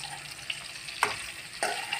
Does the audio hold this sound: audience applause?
no